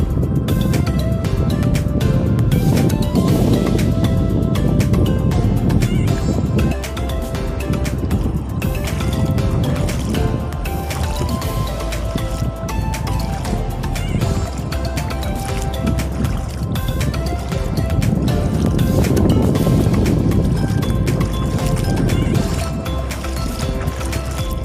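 Strong sea waves at high tide crash and wash close by in repeated heavy surges, each swelling and hissing before the next one breaks.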